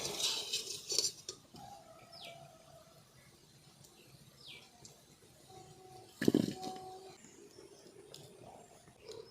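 Half-fried potatoes for alur dum are lifted from hot oil with a metal utensil, giving scattered scrapes and a sharp clatter over a faint background hiss.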